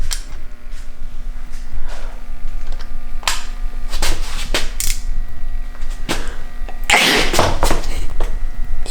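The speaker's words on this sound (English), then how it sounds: "I'm gonna sneeze." A single sharp sneeze bursts out loud and close in a garage during a 180SX engine job, standing out among scattered clicks and clanks of tools as spark plugs and coil packs come out.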